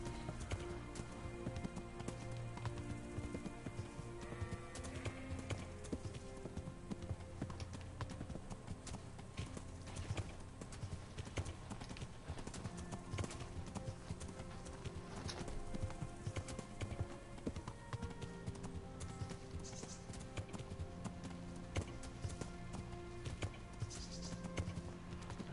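A galloping horse in the game Kingdom Come Deliverance drums out steady, rapid hoofbeats that run continuously under layered game music and ambience, with no one talking.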